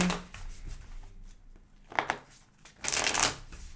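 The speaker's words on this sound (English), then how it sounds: "More oracle deck to shuffle for you." An oracle card deck being shuffled up close, soft riffling bursts that pause and then return louder, with no voices.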